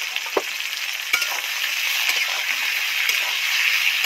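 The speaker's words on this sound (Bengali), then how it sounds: "একদম ছাঁকা তেলে ভাজলে তবেই টেস্টি রেসিপি হবে।" Mixed vegetables deep fry in hot oil, giving a constant dense crackling sizzle with a few brief spatula taps.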